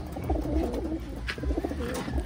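Pigeons coo steadily while feeding, a low continuous burbling with a few brighter chirps, close by and unaccompanied by talk.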